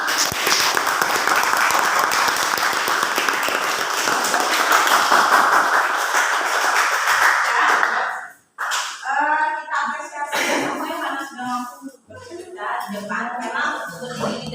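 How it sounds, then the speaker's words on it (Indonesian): A classroom of students claps together for about eight seconds in a loud, dense burst, then the applause stops and a teacher talks over scattered noise. "kasih tepuk tangan"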